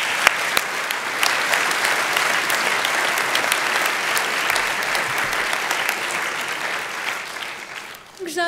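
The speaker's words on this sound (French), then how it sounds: "Je vous applaudis." Sustained applause from a large audience fills the space, dense and even, fading slightly before a voice begins speaking at the very end, at a University of Liège doctoral ceremony.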